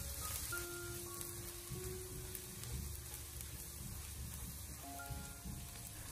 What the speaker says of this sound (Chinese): 将切好的蒜末放进锅中，用小火给它翻炒一下